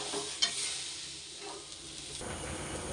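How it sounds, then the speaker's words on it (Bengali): Water poured onto potatoes fried with spices in a pan sets off a close, steady sizzle and hiss with a brief sharp clatter at the start, heard alone without talk. "কষানো হয়ে গেছে, পরিমাণ মতো জল দিয়ে দেবো।"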